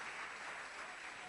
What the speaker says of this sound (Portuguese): Aplauda o Senhor, meus irmãos, aplauda o Senhor que Ele é fiel